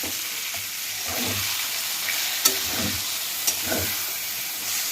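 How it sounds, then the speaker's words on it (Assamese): Banana flower frying in oil with mustard seeds in a pan for a traditional curry, a close, continuous sizzle with a couple of small pops and faint stirring. "ফুলখিনি আগত ভাজি ল'লোঁ, ভাজাৰ পিছত এতিয়া দি দিম সৰিয়হখিনি।"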